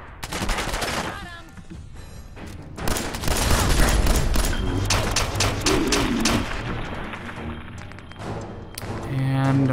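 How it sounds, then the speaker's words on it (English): Machine gun fire in the video game Fallout 4, fast rattling bursts of gunshots with heavier thuds mixed in, loud and dense, with a voice speaking over parts of it. "you think from the machine gun fire that we're not?"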